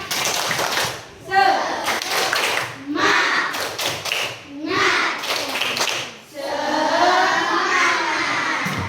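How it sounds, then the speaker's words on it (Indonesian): A class of young children does a rhythmic spirit clap in a primary school classroom, bursts of patterned claps and chanting voices in three or four waves, loud and close. "coba sekali lagi tepuk semangat"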